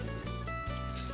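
A carving tool's edge is worked back and forth on a leather strop, giving a steady, close rubbing and rasping sound with brief pauses between strokes.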